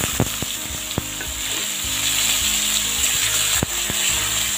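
Bottle gourd pieces dropped into hot oil tempered with cardamom and asafoetida, giving a steady close sizzle and frying crackle with a few sharp clicks and taps of a utensil against the pan.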